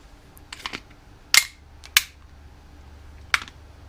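An Umarex Smith & Wesson M&P 40 blowback BB pistol fires three sharp, loud cracks spaced about half a second to a second and a half apart, with softer clicks of handling between them.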